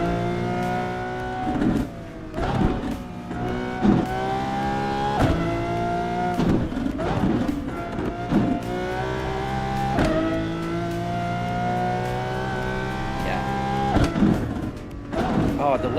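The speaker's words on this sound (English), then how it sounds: "We're driving the Lamborghini Aventador right now" A Lamborghini Aventador engine in a racing simulator game revs and shifts repeatedly, rising harmonic pitch sweeps broken by gear changes, loud and continuous, with someone talking over it at times.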